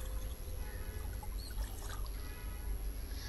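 Faint trickle and pour of water while soaked lentils are washed by hand, a quiet splashing dribble with soft background hum.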